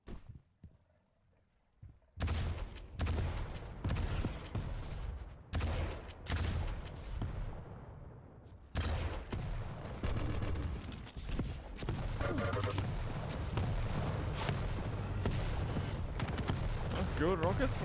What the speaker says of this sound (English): Good rockets from Cypher, but not too good to nullify the mega health pickup, and that rail